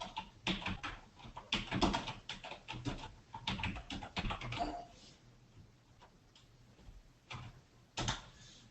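Close, quiet typing on a computer keyboard, irregular bursts of key clicks with short pauses between them.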